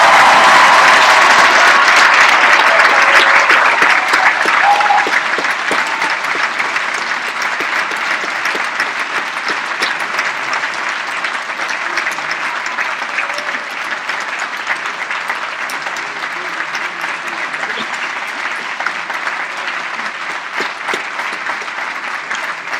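Sustained audience applause at a 2014 high school graduation ceremony for the Laura Secord Medal recipient, a dense, loud wash of clapping from a large crowd that starts strong and eases slightly while continuing throughout.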